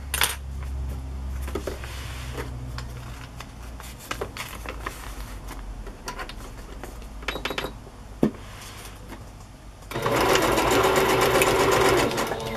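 Sewing machine stitching paper for a junk journal, rapid mechanical clatter in short bursts with pauses and handling clicks, ending in a louder sustained run, close up.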